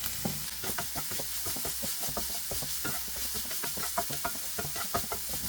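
A paneer and onion mixture for a paneer cheese sandwich being stirred in a hot pan, soft rhythmic scrapes and taps over a quiet constant sizzle.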